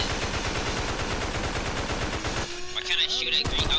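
Rapid automatic gunfire rattles in a dense, loud burst during a zombie video game, stopping after about two and a half seconds, followed by electronic game tones and sound effects.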